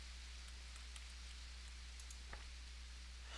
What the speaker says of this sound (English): it's now raining outside my house